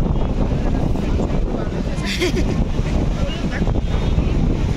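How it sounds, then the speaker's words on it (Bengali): Strong sea wind buffeting the microphone at Digha beach, a constant low roar with surf in the background while people talk. "আর এই যে সমুদ্রের হাওয়ার ঢেউয়ের বাতাস নিচ্ছি মন আনন্দ"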